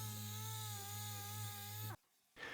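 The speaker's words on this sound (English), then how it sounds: "now I'm sanding all the good painted areas with 240 grit" A steady high-pitched power-sander whine on Mitsubishi Evo 6 painted body metal with 240 grit runs continuously, then cuts out abruptly, leaving brief quiet before the sound starts up again.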